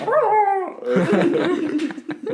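A man imitates a dog with his voice, giving a drawn-out whimpering howl followed by a run of yips and barks, close and loud.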